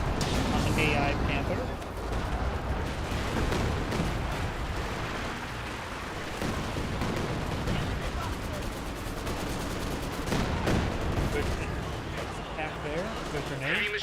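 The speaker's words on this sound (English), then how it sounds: "A lot of artillery raining on him as well." Artillery and gunfire crash through a Company of Heroes 2 battle, with dense volleys, explosions and machine-gun rattle layered almost nonstop while a voice talks over the combat.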